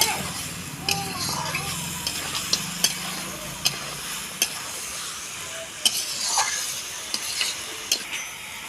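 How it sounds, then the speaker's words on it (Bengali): Mutton fries with chilli and cumin powder in a pan over a wood fire, hissing steadily while a utensil scrapes and taps the pan at regular intervals. "খাসির মাংস যত কষবে তত টেস্ট মাংসটাকে এবার কষবো ভালো করে"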